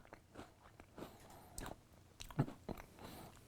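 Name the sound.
biting into an Oreo cookie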